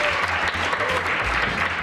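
A crowd claps steadily in dense, loud applause throughout, with faint voices mixed in.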